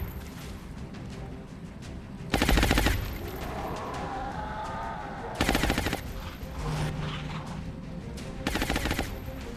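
Bursts of automatic gunfire ring out in XCOM Long War, three loud, sharp volleys spaced a few seconds apart over a busy background of lower combat and ambient game sound.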